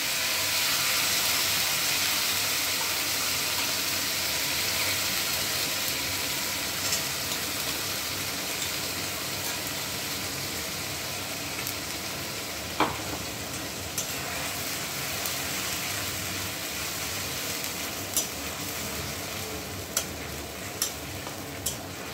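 Ginger, tomato and green chilli paste fries in a pan, a steady broad sizzle running throughout with a few sharp clicks of stirring toward the end; no voices.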